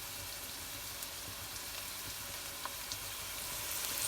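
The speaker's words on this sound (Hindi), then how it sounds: "इस तरह से थोड़ा सा ऑयल डाल के हम इसे फ्राई कर लेंगे लाइट ब्राउन सा।" Paneer cubes frying in a little oil in a pan for palak paneer, a steady soft sizzle and crackle with small pops, continuous and fairly quiet.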